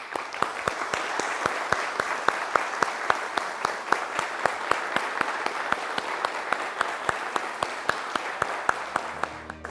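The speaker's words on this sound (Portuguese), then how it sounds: "eu vou pedir um grande aplauso para quem trabalhou e para quem está trabalhando até hoje" An audience at a talk on a Brazilian satellite breaks into steady applause, a dense wash of many hands clapping throughout with sharp regular claps standing out, loud and sustained, no speech over it.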